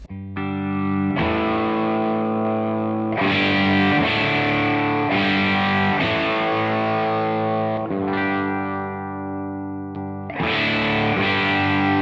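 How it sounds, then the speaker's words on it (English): Electric guitar chords played through an overdrive pedal at full gain, thick and distorted, ringing out in a few sustained strums with a brief drop before a final loud chord. "it can be a kind of preamp stroke drive pedal if we want it to be"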